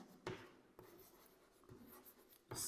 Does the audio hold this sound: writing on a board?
yes